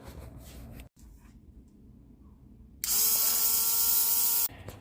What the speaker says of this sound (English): after a quick use of the Dremel, I've cut out the insides and all the tabs